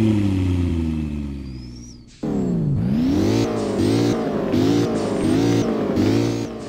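McLaren supercar engine in the Roblox game Driving Empire cranks and fires up, then revs repeatedly in loud rising and falling bursts, heard alone with no talk.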